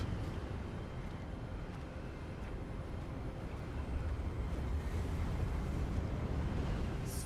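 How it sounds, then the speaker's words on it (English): Wind in a video game gusts steadily and fills the scene with a broad, even roar that holds at a constant level and swells slightly toward the end, with no voices heard. "Yeah, it's windy."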